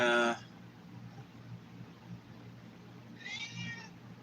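A cat meows twice, a short cry at the start and another a few seconds later, close by, with quiet low murmuring in between.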